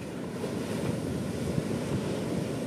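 Ocean surf breaking close to the shore at Ungapan beach in South Malang, a continuous rushing wash of waves with heavy wind buffeting the microphone, loud and near with no voices.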